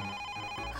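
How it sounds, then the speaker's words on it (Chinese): A telephone rings in an office in a brief, faint burst of electronic ringing tones. "快接一线电话"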